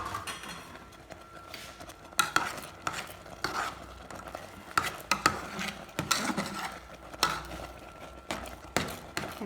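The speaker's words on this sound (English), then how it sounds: "So here I am cooking my oats." Oats being stirred in a pot while cooking, with a steady run of soft scraping and clinking spoon strokes at close range and no talk.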